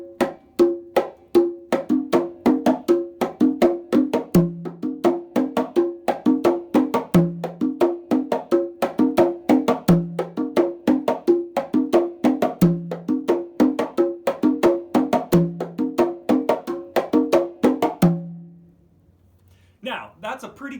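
A ChachaElekefuñ groove on congas combining okonkolo, itotele and iya parts: crisp, tightly repeating slaps and open tones in a steady, busy rhythm with a recurring low accent, close and loud, stopping abruptly near the end.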